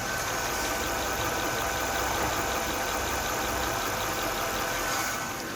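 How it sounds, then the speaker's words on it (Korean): A Mercedes-Benz S-Class sedan idles with its hood open, its engine giving a steady, even hum and faint regular vibration, close by and without talking. "지금 엔진룸 개방했습니다 뭐 커버 떨림은 당연히 있어서는 안 되고요 빠르게 엔진음 들려드릴게요"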